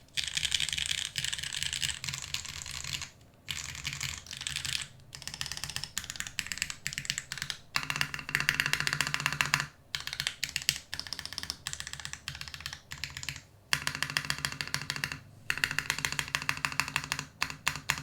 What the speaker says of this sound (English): Very resonant spacebar.